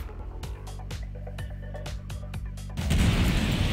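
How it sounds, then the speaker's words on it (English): A size 4 missile fires at an Eclipse ship in a space combat video game. A steady low engine hum carries a regular run of sharp shots, then a loud, roaring blast swells in and holds to the end. "And we are shooting one size 4 missile."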